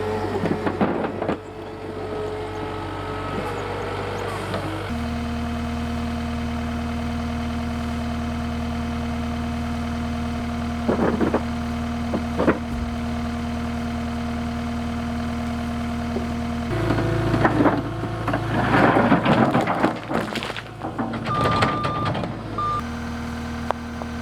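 A skid steer's diesel engine idles and works at a steady drone outdoors, with repeated reversing beeps sounding through most of the stretch and bursts of louder machine clatter.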